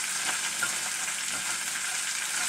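Spinach omelet cooking in a pan, with a steady, dense sizzle that holds evenly from start to end, close and moderate in level, with no voices.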